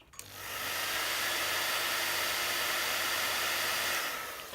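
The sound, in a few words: hair dryer blowing to dry glue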